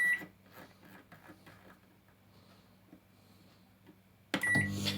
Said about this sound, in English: Into the microwave, and I think it's 5 minutes.